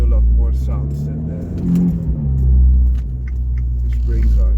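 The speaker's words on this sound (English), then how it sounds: "The exhaust system is giving you a lot more sounds than" An Abarth 595c Turismo, lowered 30 mm, gives a steady deep exhaust drone that swells and eases as the engine revs, loud and close, with no one speaking over it.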